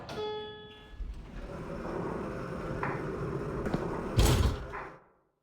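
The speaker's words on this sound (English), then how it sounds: "I don't know why, but I can't open that door." A locked door in a mobile story game rattles and thumps as someone tries to open it, a continuous clatter with a heavier bang near the end, set against a soft game ambience and faint musical tones.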